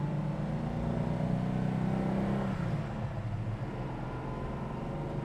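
A 1969 Plymouth GTX with a 426 Hemi engine cruising at about 50 mph, a steady low engine drone with road and wind noise, recorded from inside the car.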